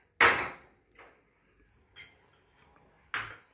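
A spoon scrapes and taps as garlic and flax seed chutney is moved from a grinder jar into a bowl: a few sharp clinks and knocks spaced out, close, with silence between.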